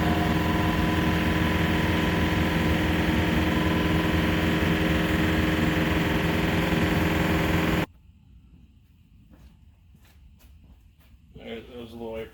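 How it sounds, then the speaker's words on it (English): An SBM 988 tire machine runs with a loud, steady mechanical drone that cuts off sharply, leaving a quiet space with faint clicks before a person starts talking close by. "That was a little air compressor brake."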